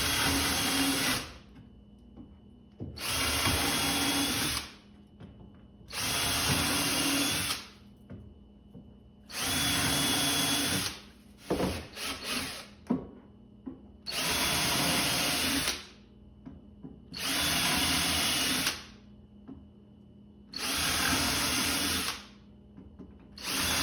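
A power drill drives screws into birch plywood in repeated bursts of about two seconds each, roughly eight whirring runs separated by short pauses, close and loud with no talking.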